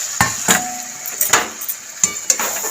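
Chicken being stir-fried in spice masala with salt and kasuri methi in a pan for Bengali chicken kosha: several sharp scraping stirs and knocks of a spatula on the pan over a steady, soft sizzle.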